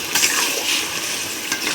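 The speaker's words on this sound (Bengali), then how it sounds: "সব মাছ একটু নাড়াচাড়া দেবো" Koi fish are stirred into a simmering bottle gourd curry in a pot, giving a short stretch of steady bubbling sizzle with a few soft scrapes and no voices.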